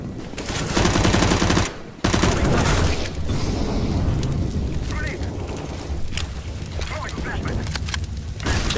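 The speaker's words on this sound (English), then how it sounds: "Flashbang out." Gunfire and a flashbang grenade burst in Counter-Strike: Global Offensive, loud rapid automatic shots, then a sharp cutoff and a sustained blast with ringing and scattered shots, with players talking over it.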